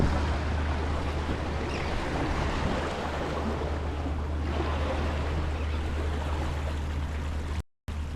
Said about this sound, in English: Just have to watch out for these waves.